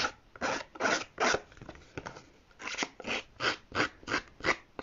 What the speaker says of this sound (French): Pour un peu esquinter les bords, j'ai pris ma paire de ciseaux